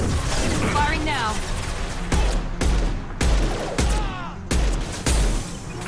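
Gunfire in the video game Mass Effect 2, several loud bursts of shots and booming impacts in quick succession, mixed with speech.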